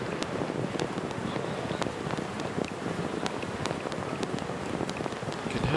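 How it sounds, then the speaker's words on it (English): Torrential rain pours steadily straight down on a rugby ground during a match, a dense, even hiss of drops with faint scattered patters and no talk. "it's torrential rain here"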